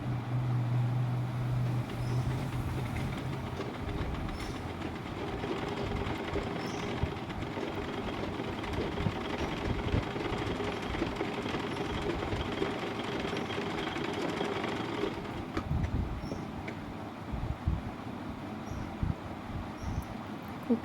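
A sewing machine stitches a bolster pillow cover, a close, steady rapid mechanical chatter running continuously, easing off and pausing briefly near the end.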